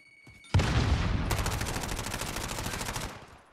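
Rapid automatic gunfire in a shooter video game, a dense, loud burst of shots that starts abruptly and continues with fast repeated cracks for about three seconds before cutting off.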